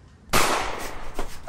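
A New Year firecracker bursts with one sharp, loud bang that decays into a crackling tail, followed by a smaller pop about a second later, close by and with no talking.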